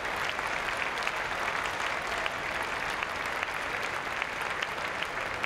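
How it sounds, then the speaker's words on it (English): Sustained applause from a large audience at Crufts 2001 as dogs leave the ring after Working Group judging, a dense, steady wash of clapping that stays loud and even throughout. "keep that applause going"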